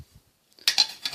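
Metal parts of a compact gasifying camp stove with a double-skinned inner wall clink together as they are nested and stacked, giving a few bright, close metallic clatters after a short quiet pause.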